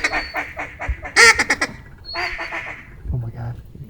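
Ducks quacking during a duck hunt in a blizzard, a burst of several loud raspy quacks in quick succession close by, with hunters talking around them.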